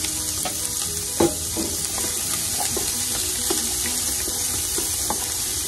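A whole onion frying in a pan, a steady close sizzle broken by scraping stirs and light clicks of the utensil against the pan, with no talk.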